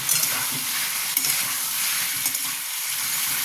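Tomatoes, cherry tomatoes among them, and chopped onions frying in a pan for a chicken stew, with a dense, continuous bright sizzle and a few faint clicks of stirring, close and steady.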